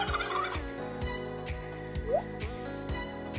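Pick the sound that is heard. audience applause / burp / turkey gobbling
turkey gobbling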